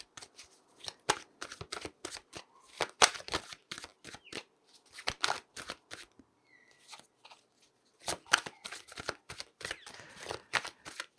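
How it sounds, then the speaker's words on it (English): Repeated crisp riffling bursts of tarot cards being shuffled close up, in quick clusters separated by brief pauses. "Just got to shuffle to get the right card."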